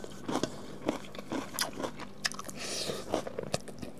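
Crunchy food bitten and chewed up close, a series of sharp crisp crunches and wet chewing sounds spaced irregularly, with no talk over them.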